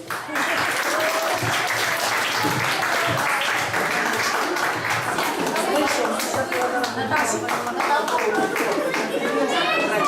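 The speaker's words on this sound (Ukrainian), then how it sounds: "Ваші оплески." Loud, sustained applause from a crowd at a christening, dense clapping with cheering and children's voices mixed in throughout.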